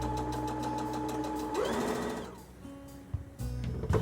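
A sewing machine runs a seam around a fabric bowl, its steady close mechanical hum and rapid needle clatter going for about two seconds before slowing to a stop, followed by a few small handling clicks.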